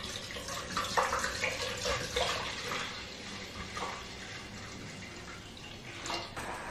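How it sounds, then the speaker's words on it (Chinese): Shaoxing rice wine poured into a hot wok with pork belly for braised red-cooked pork, a continuous watery pouring and sizzling wash that fades slightly over several seconds. "锅中加入黄酒"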